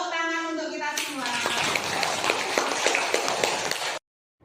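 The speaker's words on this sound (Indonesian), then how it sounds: "Tepuk tangan untuk kita semua." A classroom of children claps at an elementary school, a burst of dense hand clapping that follows a short spoken line and stops abruptly.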